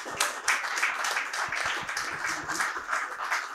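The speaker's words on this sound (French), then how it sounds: "Je crois qu'ils ont vraiment mérité vos applaudissements." Applause from an audience at a French debate on finance and the common good, a steady wash of clapping from many hands at moderate level with no talk over it.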